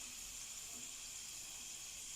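A steady, quiet hiss of coated peanuts frying in oil, continuous and even throughout with no voices.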